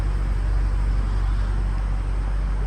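A BMW M5 F90 engine gives a deep, steady rumble with a muted exhaust note, low and smooth without any revving, fairly loud and continuous.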